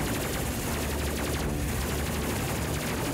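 Rapid, dense gunfire from spaceships in the game Space Crew: Legendary Edition, a loud, unbroken stream of rattling shots filling the whole moment with no voices.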